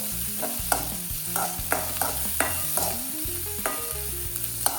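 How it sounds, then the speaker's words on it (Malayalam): Onion, ginger, garlic and green chili sizzle steadily in hot ghee in a pan for beef stew, with a spoon stirring and scraping in repeated knocks over the constant frying hiss, close and loud, no voices. "നല്ലവണ്ണം നെയ്യിൽ വഴറ്റിയെടുക്കാം കേട്ടോ."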